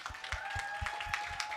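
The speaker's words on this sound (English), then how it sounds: "give a round of applause for Rico." An audience gives a round of applause, a faint, distant patter of claps with a steady rhythm of stronger hand hits, brief and low in level.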